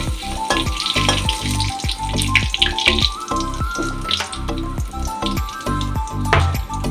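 Powdered spice mix frying in a pan while being stirred, a loud continuous sizzle broken by regular scraping strokes, no talk.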